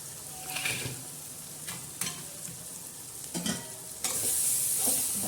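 Masala for a ridge gourd (dodka) curry with peanuts, green chillies and coriander being sautéed and stirred in a pan, a steady close sizzle broken by several scraping stir strokes, louder frying toward the end.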